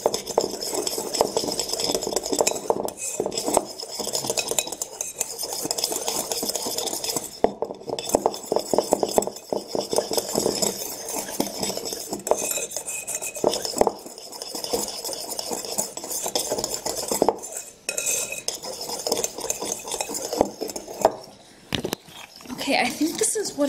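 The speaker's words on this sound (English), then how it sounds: "I'm gonna try and mix it up by hand now rather than with the mixer" Whipped TikTok coffee mixed by hand in a cup, a spoon scraping and clinking rapidly and continuously against the sides while a person keeps talking throughout.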